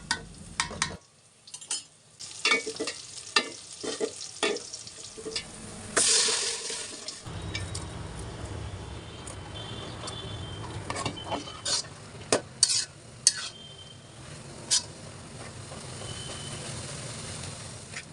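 Cauliflower leaves fry and get stirred in a pan with prawns nearby, a steady sizzle broken by repeated scraping and clinking strokes of a spatula against the metal, loud and close throughout.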